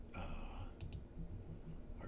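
Mouse clicks in FEA software while setting up a modal analysis, a few sharp close clicks near the start and a double click in the middle over a quiet background hum.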